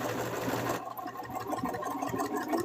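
A sewing machine stitches a mushroom slug plush, its motor whirring in a fast, steady buzz close by, easing briefly before running on continuously.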